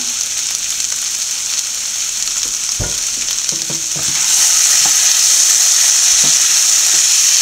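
Beef is fried Kuttanadan style, with a continuous close sizzle and occasional clicks and scrapes of stirring; the frying grows noticeably louder and brighter partway through.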